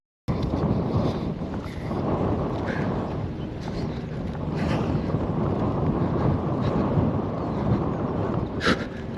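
Strong headwind buffets the microphone continuously while someone walks uphill outdoors, a loud, rumbling, gusting roar that fills the whole stretch with no pauses.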